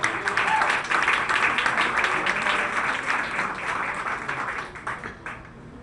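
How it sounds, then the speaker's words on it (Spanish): Congregation at a Spanish-language church service gives loud, vigorous applause that swells at once, holds steady with some voices mixed in, then thins and fades away near the end. "un aplauso fuerte al Señor"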